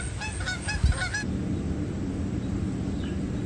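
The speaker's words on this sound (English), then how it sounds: "And there go the geese." Several geese honk in a quick noisy burst by a lake on a golf course, fairly close, then fall away into quiet outdoor background hiss.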